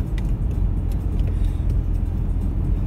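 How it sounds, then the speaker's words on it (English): A car rolls past on a desert road, a steady low rumble of engine and tyres on the track that stays close and fairly loud the whole time, with no talk over it. "You got an oncoming car right in front of you"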